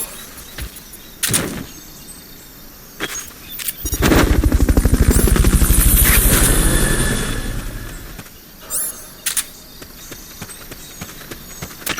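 Helicopter in the video game Metal Gear Solid Peace Walker, a loud rotor and engine roar swelling for about four seconds after scattered short game effects, then fading back to quieter ambience.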